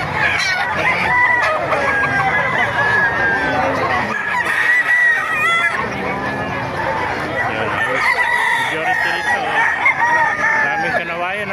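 Many roosters crow over one another while hens cluck nearby at a market in Bocaue, a dense, loud barnyard chorus with faint voices underneath.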